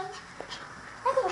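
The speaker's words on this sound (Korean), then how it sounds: "아이고, 낑낑거려." A small dog whimpers in short, high, faint whines, with a louder burst of whining at the end and quiet voices nearby.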